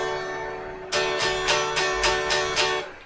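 A major chord strummed repeatedly on the bottom four strings of an acoustic guitar in a steady rhythm, about seven bright strums ringing close and clear, with no talking.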